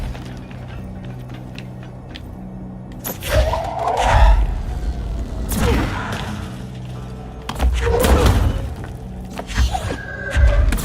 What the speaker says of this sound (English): Activate the explosives to excavate the Black Rock Quarry.